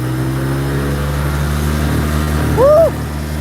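A 1986 EZGO golf cart with a badly running engine idles steadily up close, a low droning hum holding for a few seconds before a short swelling whine near the end.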